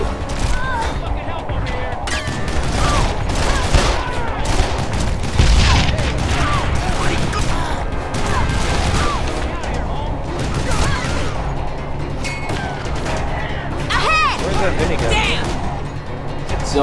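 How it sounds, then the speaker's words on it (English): A minigun fires from a terrace in the video game Call of Juarez The Cartel, a continuous rattling barrage mixed with other gunfire and battle noise, with voices talking over it throughout. "Minigun on the terrace!"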